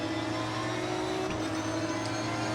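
GT race car in Assetto Corsa Competizione at Zolder, a constant high engine whine at steady revs, dense and unbroken throughout.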